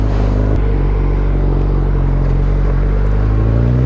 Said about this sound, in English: That exhaust, it's exhaust note is so good.